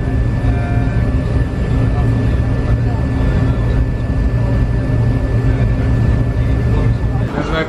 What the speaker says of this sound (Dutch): Vliegtuig.